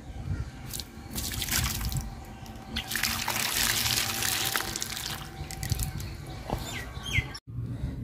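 Tomatoes being washed in water, with splashing, trickling and dripping sounds close by, steady throughout, and faint bird chirps in the background.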